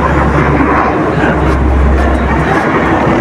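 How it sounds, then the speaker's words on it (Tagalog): A military jet fighter roars overhead, a loud continuous broadband rumble with no breaks, heard outdoors with a voice speaking faintly underneath. "Ang military yata itong aeroplano to,"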